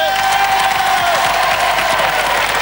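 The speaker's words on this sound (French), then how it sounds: "Applaudissements pour nos deux équipes, s'il vous plaît." A studio audience at a 1997 French television game show applauds two competing teams, a loud, dense, continuous wall of clapping with cheering and a few whoops throughout.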